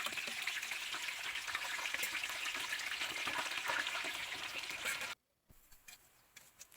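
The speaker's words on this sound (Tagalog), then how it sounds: "kailangan lang po ay bali-baligtarin lang natin yung ating jol na piniprito para po hindi siya masunog" Jol sizzling as it deep-fries in hot oil until crispy, cooked for Loming Batangas: a steady, dense crackle and hiss for about five seconds that cuts off abruptly, then faint quieter kitchen sounds.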